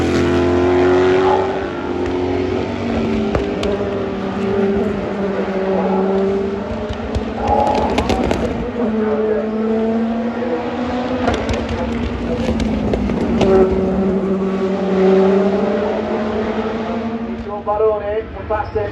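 Race cars roar past at Watkins Glen during the Sahlen's Six Hours of the Glen IMSA endurance race, engines rising and falling in loud, overlapping passes through turn one while a commentator talks over them.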